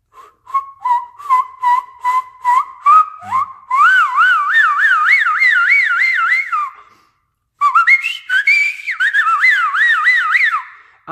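Loud fingerless whistling, first a series of short repeated chirps on one pitch, then long warbling trills that rise and fall rapidly, pausing briefly before another warbling run; piercing, close and alone.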